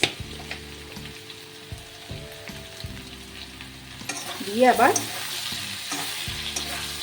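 Spices and coriander powder fry and get stirred in a hot pan for a sattvic meal, a steady close sizzle with scraping spoon strokes and a louder burst of crackling midway, while a voice speaks briefly.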